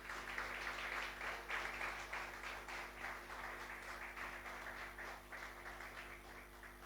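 Faint, distant applause from a church congregation during a sermon, a steady wash of clapping over a low electrical hum, with no one speaking.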